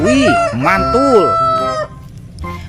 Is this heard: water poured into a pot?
no